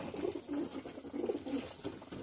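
Pigeons coo in soft, repeated low calls, close by and continuous over a faint airy background, with no voices.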